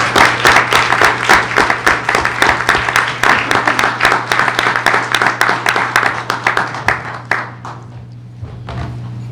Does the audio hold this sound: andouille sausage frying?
no